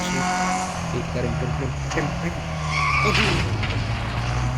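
A race car in Real Racing 3 brakes hard and skids, tires squealing over a loud engine drone while another car runs close by, with a voice talking over the action.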